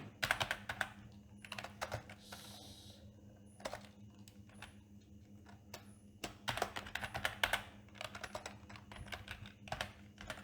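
Rapid close clicks of a computer keyboard as code is typed, coming in irregular bursts with short pauses over a faint steady hum.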